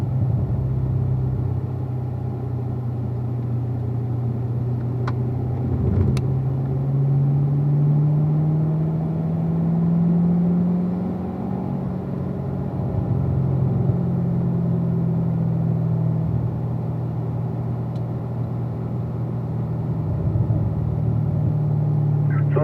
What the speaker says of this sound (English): Pushing the Camaro a little bit.